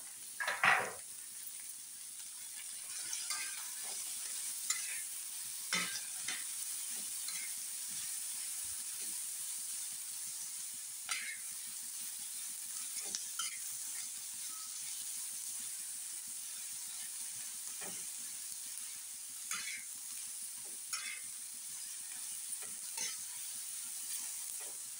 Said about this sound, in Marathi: आपण कांदा भाजायला टाकला 2-3 कांदे. त्यामुळेच आपण लसूण पण टाकूया भाजायला.